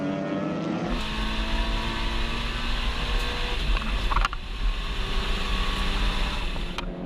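Production touring cars race past at Wakefield Park circuit, their engines droning loudly with shifting pitch as they pass, with no talk heard.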